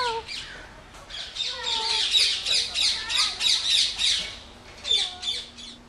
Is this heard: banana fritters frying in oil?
no